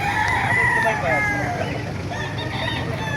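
Roosters crow loudly and repeatedly at a busy chicken market in Bocaue, Bulacan, their calls overlapping above steady crowd murmur and clucking.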